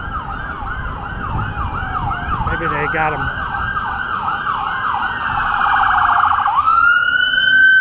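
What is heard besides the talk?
ambulance siren followed by a police car siren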